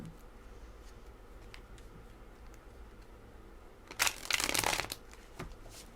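A tarot deck is shuffled by hand, soft faint card rustles and taps followed by one loud, dense riffle burst lasting about a second, then a small flick.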